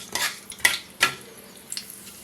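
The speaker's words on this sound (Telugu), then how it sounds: "ఇప్పుడు దీనిలో ఒక స్పూన్ మెంతులు వేస్తున్నాను వేయించుకుందాం" A spoonful of fenugreek seeds frying in a pan for a curry leaf chutney: a few short scraping and sizzling bursts as the seeds are stirred, close and moderately loud, with no talking.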